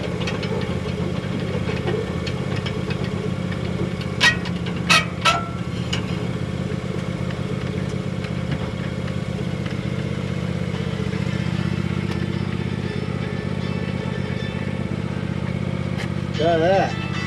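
A John Deere X390 riding lawn mower engine runs at a steady idle throughout, a constant low rumble with a few brief clicks and knocks, while people talk nearby.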